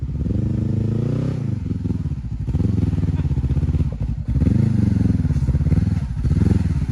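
A Honda CB500 adventure motorcycle climbing a hill under heavy throttle on a rainy-season trail ride, its engine droning loud and close with surging revs and pitch swells throughout.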